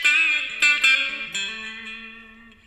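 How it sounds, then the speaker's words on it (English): Distorted electric guitar recorded in Ableton Live 9 plays a few bright, sustained notes and chords, ringing out through an amp plugin with reverb and slowly decaying into silence. "now the guitar track has an amp and a reverb on it"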